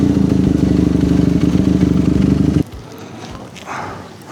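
A QJ Motor SRK 250 RR motorcycle on a ride from Port Dickson to Cyberjaya in Malaysia, its engine droning loud and steady up close, then cutting off abruptly and leaving quieter background sound.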